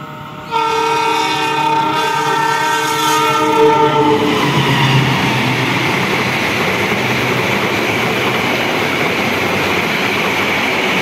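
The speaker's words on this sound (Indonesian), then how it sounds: "kita akan rekam dulu kereta api Sancaka Yogyakarta Surabaya Gubeng" An Indonesian Sancaka passenger train from Yogyakarta to Surabaya Gubeng, hauled by a CC 206 locomotive, sounds a long horn and then roars past at speed with a loud, sustained rumble and rattle of wheels.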